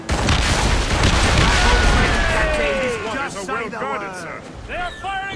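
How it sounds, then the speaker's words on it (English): Sailing warships trade a cannon volley in the game Assassin's Creed Rogue: a dense, loud rumble of overlapping booms that fades after a few seconds, with shouting voices over and after it. "They are firing a volley!"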